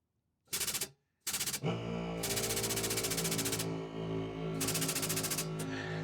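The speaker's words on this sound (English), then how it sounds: "You can hear the air compressor in the background." A loud, steady mechanical drone with a low hum from an air compressor runs throughout, cut by a few sharp rattling bursts near the start, with no voices.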